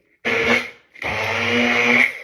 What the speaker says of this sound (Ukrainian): І тепер блендером потрібно цю всю масу гарно збити.